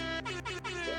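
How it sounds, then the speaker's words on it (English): A loud, close air horn blares in three short successive honks over a steady droning tone, played as a sound effect during a Daggerheart tabletop role-play stream. "Honking my horn as I go."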